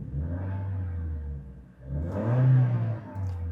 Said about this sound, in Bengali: আপনারা গাড়িটার ইঞ্জিনের সাউন্ড শুনতে পেয়েছেন, কতটা স্মুথ এই ইঞ্জিন এখনো আছে